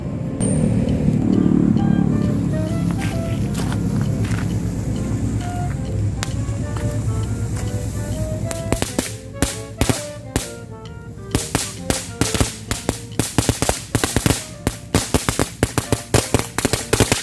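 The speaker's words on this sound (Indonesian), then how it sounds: "sekarang kita cobain mercon Golden House" A small Golden House firecracker fizzes and crackles for several seconds, then breaks into a rapid run of sharp pops and bangs, loud and close.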